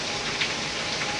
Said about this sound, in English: Hadn't seen it rain this hard in a long time.